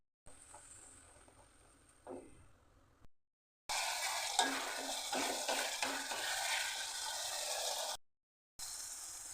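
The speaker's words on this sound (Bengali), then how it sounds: "একটু জল দিয়ে দিলাম মশলা কষাবার জন্য।" Spices with a splash of water sautéed and stirred in a pan for a vegetarian potato, pointed gourd and lentil-fritter curry, a loud steady sizzle with scraping stirs after a quieter start, broken by brief silent gaps.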